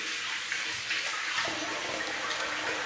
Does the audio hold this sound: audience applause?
no